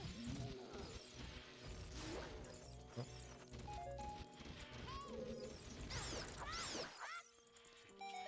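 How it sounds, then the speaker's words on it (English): Bombs thrown and exploding in the video game Zelda Ocarina of Time randomizer, with repeated crashing bursts, whooshes and chimes over dense game music and effects, heard at moderate level. "let's throw some bombs"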